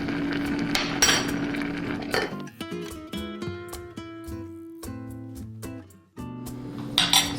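Metal pots, lids and utensils clank and clink in a home kitchen as a pot of broth comes off the stove, with sharp irregular knocks, brief ringing tones and a rush of pouring liquid near the end.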